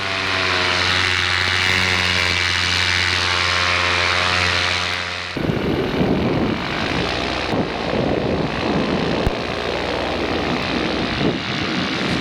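A powered paraglider's propeller engine in flight over the Salton Sea gives a steady, loud buzzing drone for about five seconds, then gives way to heavy, rushing wind noise.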